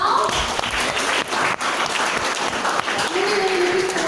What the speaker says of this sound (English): give yourselves a big round of applause for the pitching session just now